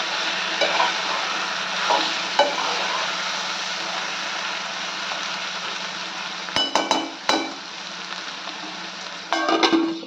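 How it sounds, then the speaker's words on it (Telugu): A spoon stirs curry cooking in a pan, with a steady soft sizzle throughout and a few louder clinks and scrapes against the pan near the end, no voices. "మనం ఒకసారి కర్రీని అయితే మధ్యలో కలుపుతూ ఉండాలి, ఎందుకంటే కింద మాడిపోతూ ఉంటుంది."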